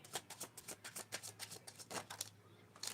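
Tarot cards being shuffled close up, a quick run of crisp papery riffles and flicks, about a dozen bursts in three seconds, quiet and intimate.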